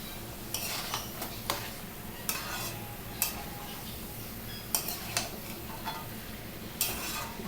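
Spatula scraping and clattering in a pan while potatoes and yardlong beans are stirred with spices, repeated sharp metallic strokes over a low steady sizzle, no voices.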